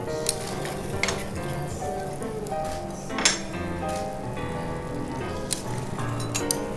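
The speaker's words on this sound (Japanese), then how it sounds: "小さい鍋にバターを少し溶かしていただきます" Butter melts in a small pan on a teppanyaki griddle, giving a steady soft sizzle with occasional clinks of utensils, close and continuous.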